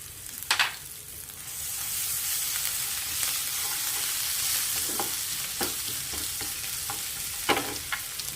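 Red and green chilies, asafoetida and ginger sizzle in hot oil with the gas turned off, giving a steady crackling fry punctuated by a few sharp pops and stirring clinks, no voices.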